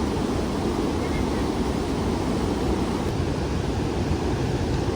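Fast-running river water at Jeram Enggang waterfall in Jelebu, swollen after rain, giving a steady, loud broadband rush with no breaks, close to the microphone and unbroken by voices.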